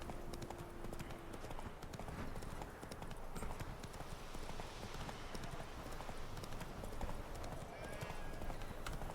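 Roach the horse trotting in The Witcher 3: Wild Hunt, a steady clip-clop of hooves running continuously over a dense outdoor game ambience, with a brief whinny early on.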